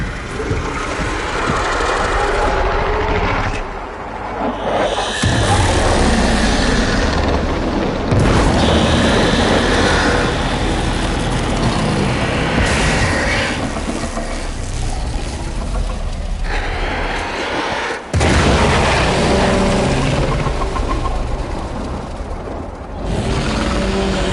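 An explosion in the video game Warframe, a heavy rumbling boom that swells and sustains as a loud, dense roar for many seconds, with brief dips before rising again.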